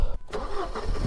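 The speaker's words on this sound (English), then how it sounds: "The engine is running." A car engine starts up right after a fuel line repair, catching with a short crank and settling into a steady mid-pitched idle, close and alone.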